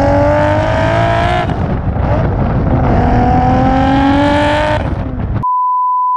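A Pagani supercar engine screams loudly at close range, its pitch climbing and dropping through revs, then cut off by a steady electronic beep.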